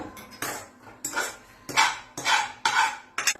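Cooked cabbage is scooped onto a plate in quick bursts of metal utensil scraping and clinking against cookware, about six sharp strokes, close and clear.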